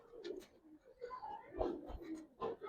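Pigeons kept for sale, Giribaz and khaki colored breeds, make soft cooing calls in short low bursts close by, faint and intermittent with brief pauses between phrases.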